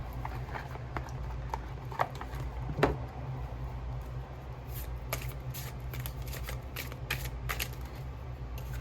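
Tarot cards are shuffled by hand in soft, quick riffles and slides, with a few sharper snaps, all close and quiet against a low steady hum, with no talking.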